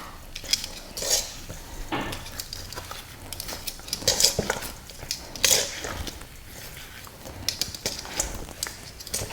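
Pork rinds being stirred with salt in a pan while making chicharon, a steady patter of utensil scraping and clinking against the cookware, close and fairly quiet, with no voices.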